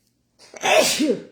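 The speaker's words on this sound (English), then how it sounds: "I need to sneeze" One loud sneeze up close, a quick breath followed by a sharp burst trailing off.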